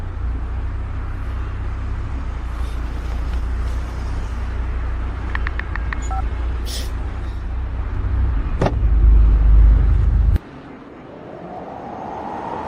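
Interior of a moving car with a steady low engine and road rumble throughout, a louder surge near the end, then a sudden drop to quieter cabin noise as it slows.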